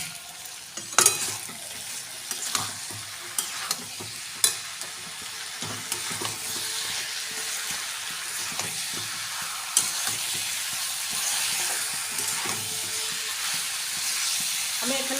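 Jackfruit and prawn masala with turmeric is stir-fried in a pan, a steady sizzle and hiss punctuated by frequent sharp scrapes and knocks of the spatula, close and continuous.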